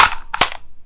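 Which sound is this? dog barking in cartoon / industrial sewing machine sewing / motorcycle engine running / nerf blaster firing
nerf blaster firing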